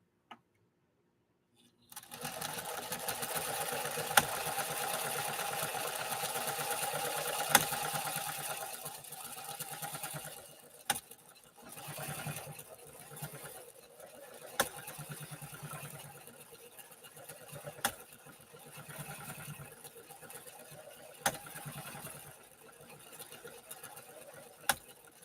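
A 1960 Pfaff 230 sewing machine runs a stitch: a steady close mechanical whir for about eight seconds, then slower, stop-and-start running punctuated by sharp clicks, with no talking.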